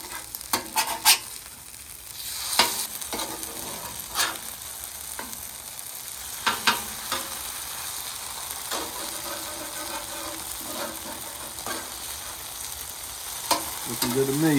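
Butter and brisket sizzle steadily on a hot griddle for a brisket breakfast burrito, a continuous close frying hiss punctuated by occasional sharper crackles and spatula scrapes, with no talking.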